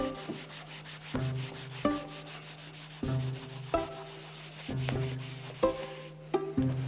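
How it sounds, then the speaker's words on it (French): A brush scrubbing acetone over paint stains on tiles, rhythmic rubbing strokes repeated about once a second, close and steady, with no talk. "un bon brossage avec cette substance volatile rend tout très beau"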